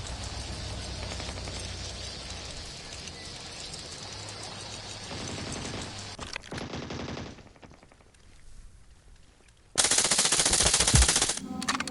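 Rapid automatic gunfire from a building rattles on continuously in Scarfall 2.0 mobile gameplay, then breaks off, and after a short lull a louder, closer burst of shooting erupts.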